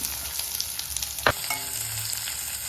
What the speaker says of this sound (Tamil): எண்ணெய் காஞ்சிருச்சு கொஞ்சம் கடுகு போட்டுக்கலாம்